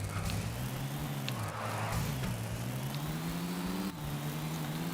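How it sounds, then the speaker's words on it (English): A car engine in Tony Hawk's Underground hums steadily at a mid-low pitch, its tone wavering slightly as it drives, close and continuous with faint clicks and bumps over the top and no talk. "in our skateboarding video game, we're going to be driving a car"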